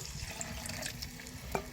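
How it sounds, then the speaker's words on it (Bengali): Water poured into a pot of mung dal cooked with rohu fish head in a village kitchen, a steady close splashing and trickling stream lasting under two seconds. "এবারে আমি পানি দিয়ে দিব"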